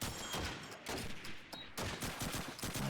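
Rapid gunfire bursts in a competitive tactical shooter video game match, automatic and single shots overlapping in dense volleys with brief gaps, fairly quiet in the mix with no talk over it.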